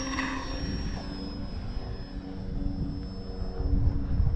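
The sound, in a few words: electric motor of E-flite Valiant RC airplane flying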